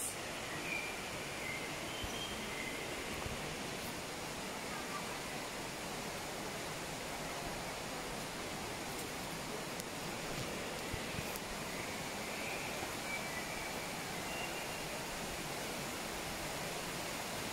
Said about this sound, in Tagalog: Oh, waterfall.